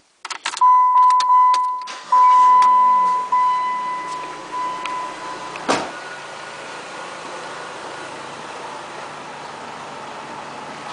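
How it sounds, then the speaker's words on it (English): A 2006 Chrysler PT Cruiser sits with a steady electronic door chime before its engine cranks briefly and catches, then settles into an even, continuous idle close by. "let me show you the motor and start it up for you so you can hear this thing"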